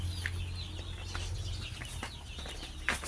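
Chickens being weighed before feeding at night, with scattered clucks and a brief squawk over steady low farm hum and rustling, moderately close.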